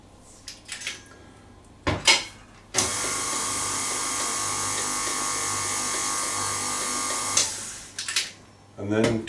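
An electric mixer beats cheesecake filling with sugar in a bowl, a steady high motor whine lasting about five seconds. Brief clattering and scraping come before and after it.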